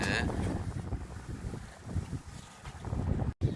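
Wind buffets a fishing boat out at sea off Wando, a steady broadband rush with microphone gusts throughout and a brief dropout near the end.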